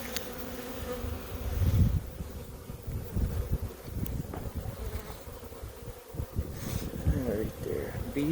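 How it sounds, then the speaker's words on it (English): A close, steady buzz of many honeybees feeding on syrup at a spring hive drones on with wind gusts buffeting the microphone and a few brief low bumps. "Bees sucking the syrup."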